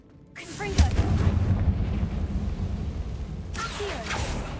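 The Confringo fire spell from Hogwarts Legacy bursts in a sudden, deep rumbling explosion that swells quickly and then rolls on with a heavy, crackling roar for several seconds, loud and close, over low in-game sounds.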